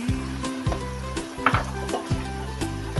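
Potato chunks dropping into a pot of chicken tinola: a series of rhythmic knocks and thuds about every half second over a steady electric hum, with light clatter of pot and utensil, close by, no voices.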